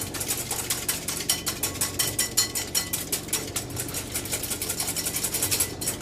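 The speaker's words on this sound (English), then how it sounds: "I'm going to use a large whisk, and I'm going to break those egg whites." A large whisk beats egg whites in a bowl with fast, regular rhythmic clicking and scraping strokes that run steadily from start to finish, close up and without any talking.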